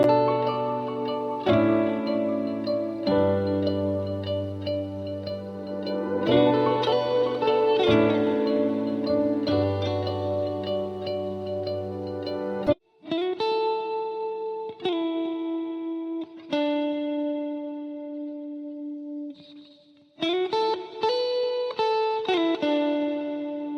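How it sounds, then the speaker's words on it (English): A lead guitar layer in a sad, vocal-sample-based beat plays a melodic line of sustained, effect-laden notes with distortion and chorus. The phrases have brief gaps between them, with no voices. "The final musical layer added is this lead guitar"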